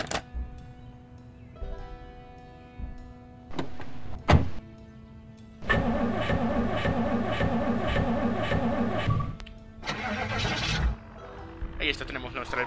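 Car engine starting and running in the Project Zomboid video game, a steady mechanical drone with a brief cut-off and restart, mixed with game clicks and tones.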